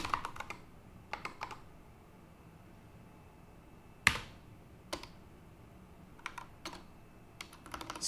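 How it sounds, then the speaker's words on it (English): Sparse, irregular keystrokes on a computer keyboard during a live Linux programming session, with short bursts of clicks separated by pauses and one louder tap standing out. The clicks sound close and fairly quiet, with no voices. "I was typing what I was thinking."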